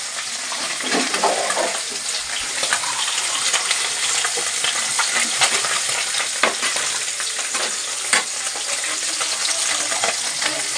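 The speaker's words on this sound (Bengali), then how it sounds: "এই মাছগুলো ভাজা হয়ে গেছে" Small fish sizzle and crackle in hot oil in a wok, a steady loud frying hiss with small pops scattered throughout.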